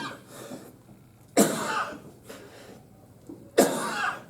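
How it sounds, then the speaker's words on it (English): Two sharp, close coughs, a couple of seconds apart, with quiet breathing between them. "You don't have to cough first, that wasn't part of the procedure."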